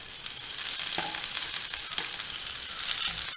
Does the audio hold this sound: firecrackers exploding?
no